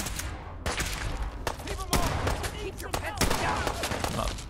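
Rapid bursts of automatic gunfire from a weapon in the video game Fallout 4, loud and close, with repeated sharp shots and some chatter mixed in.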